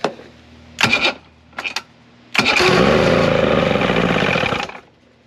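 Mercury 70HP two-stroke outboard engine being started with a little choke: a few short cranking bursts, then it catches and runs loudly and roughly for about two seconds before cutting out.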